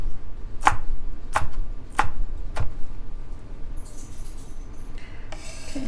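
Knife chopping onions into rings on a cutting board: four sharp, evenly spaced chops close up, followed by softer rubbing and scraping sounds, with no voices.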